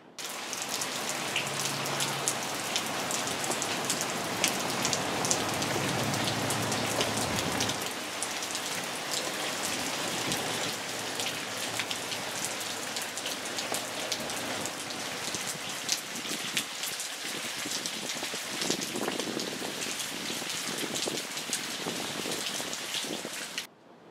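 Heavy storm rain pours outside with a dense, constant hiss and patter on surfaces, steady and loud throughout with no voices.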